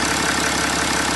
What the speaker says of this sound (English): As you can see, the vehicle is started.